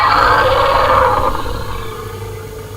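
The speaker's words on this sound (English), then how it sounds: "Sounded a lot like a lion." A pet translator app on a phone plays a lion-like roar, a single loud, rough growl that swells and then fades out over about two seconds.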